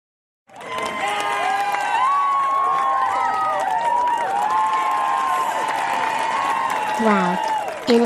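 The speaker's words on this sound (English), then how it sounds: "They are all cheering for us." A large crowd cheering and shouting continuously, with voices overlapping throughout and a brief louder swell near the end.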